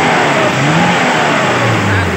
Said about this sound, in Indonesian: Saya gas-gas tadi kawan.